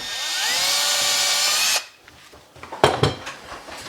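A power drill whirs steadily at close range for nearly two seconds, pre-drilling a screw into a kitchen cabinet, then stops, followed by a few scraping, knocking handling sounds.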